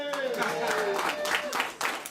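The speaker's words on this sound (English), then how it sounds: "That deserves a round of applause." Applause breaks out at a DC Statehood holiday party, a short burst of crowd clapping mixed with raised voices and cheers.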